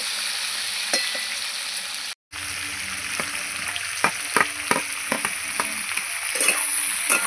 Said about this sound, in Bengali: আলু আর ডাটা দিয়ে দিলাম নাড়াচাড়া করে নেবো